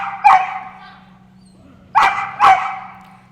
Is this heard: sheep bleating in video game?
no